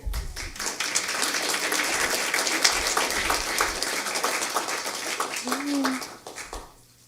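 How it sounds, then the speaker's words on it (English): An audience claps steadily for several seconds at a school district board meeting honoring 20-year staff, while voices carry over the applause, then the clapping thins out and fades at the end. "Let's give them one more round of applause."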